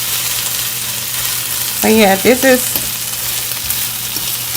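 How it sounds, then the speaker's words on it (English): Ground meat sizzling in a pan with sautéed red pepper, green pepper, onion and garlic, a steady close frying hiss throughout, with a brief spoken phrase in the middle. "It's still sizzling a little bit."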